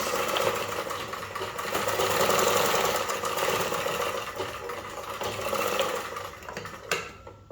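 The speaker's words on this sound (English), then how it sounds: "I've finished folding the down part of the dress, so I can continue sewing the center front" A sewing machine runs steadily, stitching the center front of a ruched bubu dress with a drawstring, with a close, continuous rapid whirr that eases off near the end.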